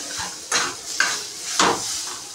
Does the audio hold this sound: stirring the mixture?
yes